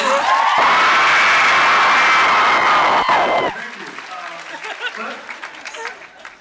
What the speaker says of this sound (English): Big round of applause if you want her to ask a question